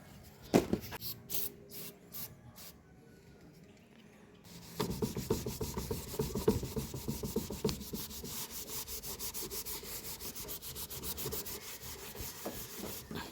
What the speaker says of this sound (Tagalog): Gamit tayo nitong glass chrome cleaner. Spray lang natin dyan.